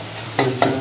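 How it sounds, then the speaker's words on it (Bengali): Masala with a splash of water is stir-fried in a pan for a rohu fish bharta, giving a loud close sizzle with two quick spatula scrapes a moment apart. "একটুখানি জল দিয়ে দিল এবার মশলাটা কষানো হচ্ছে"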